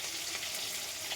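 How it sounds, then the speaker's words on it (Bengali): Flour-based paneer frying in a pan gives a steady, even sizzle that holds at a constant level for the whole short stretch, close and with no voices. "দেখুন ময়দার পনিরটা আমি এখন ভেজে নিচ্ছি।"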